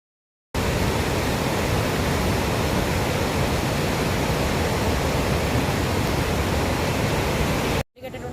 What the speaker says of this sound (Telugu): రిజర్వాయర్ నుంచి ఎడమ ప్రధాన కాలువ ద్వారా విశాఖకు రెండు వందల డెబ్బై ఐదు క్యూసెక్కుల వంతున నీటిని విడుదల చేసిన అధికారులు